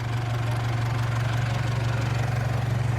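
An Isuzu D-Max with a 4JJ1 diesel engine runs at a steady, even pace on a dyno, a close, constant low drone with a regular pulse and no voices.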